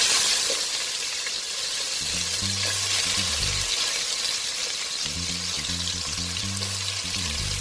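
Onions sizzle steadily in hot coconut oil with cardamom and cloves, a continuous close, loud frying hiss with faint low tones underneath and no talk.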